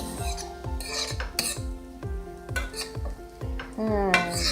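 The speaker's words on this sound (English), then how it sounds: "So now I'm just gonna stir everything together" A utensil stirs mashed potato and baja corn mix in a pan, sounding as rhythmic scrapes and clinks against the metal about twice a second over a light sizzle.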